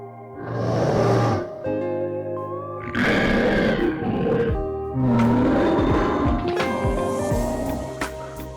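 A synthetic roar for an imagined tiger hybrid animal: three loud, deep, growling bursts close up, each swelling and fading, with a short pause between them and no talk.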